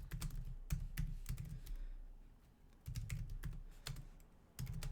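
C code is typed on a computer keyboard in quick, close, clicky bursts, with a short lull in the middle before the typing resumes.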